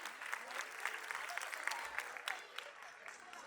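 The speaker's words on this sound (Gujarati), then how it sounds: "આ બધા વિદ્યાર્થીઓ માટે જોરદાર તાળીઓ થઈ જાય." Applause for school students at an English-medium school function, a steady wash of clapping from a crowd heard at moderate distance, fairly even throughout.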